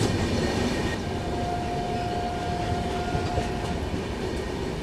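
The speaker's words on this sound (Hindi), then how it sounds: "सामने से आ रही है ट्रेन नंबर 15128 नई दिल्ली बनारस काशी विश्वनाथ एक्सप्रेस" Kashi Vishwanath Express, train 15128 from New Delhi to Banaras, rolls in on the rails with a loud, steady rumble of wheels and carriages and a thin sustained squeal running through the middle, with no voices.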